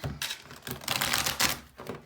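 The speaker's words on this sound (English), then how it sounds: "So I kind of want to give one last shuffle." Tarot cards being given a last shuffle for a reading, heard as a short burst of dense papery riffling and flicking that swells and fades over about two seconds, close and alone with no talk.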